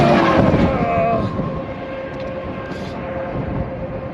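A big truck passing on a road beside a walker, a loud broad rumble with a tonal engine whine up close at first, then easing into a steadier, softer roar as it moves away.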